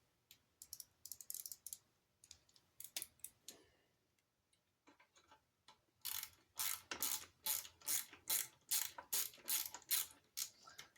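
A ratchet fitted with a female Torx bit socket drives carburetor mounting bolts, giving bursts of rapid clicking near the mic, sparse at first, then a dense steady run of loud ratcheting strokes after a short pause.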